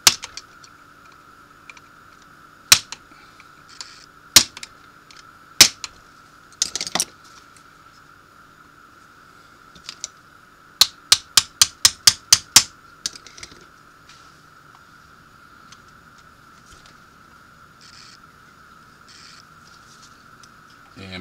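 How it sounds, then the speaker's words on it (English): Sharp metallic taps from a small hammer striking a screwdriver end while loosening a part on a Bell & Howell 1500 Series 16mm projector: three isolated taps, then a quick run of about seven, over a steady hum. "I'll take a little hammer and a screwdriver end and just give it a tap"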